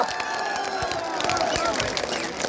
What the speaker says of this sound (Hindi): आपकी तालियों का शोर जाए जयपुर से लेकर दिल्ली तक की